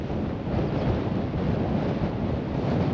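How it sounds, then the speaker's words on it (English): Blustery outdoor wind buffets the microphone, a steady loud low rumble and roar with no talk. "The wind's really quite blustery today"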